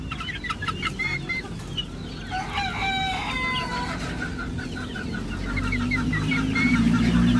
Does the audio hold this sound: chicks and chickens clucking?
yes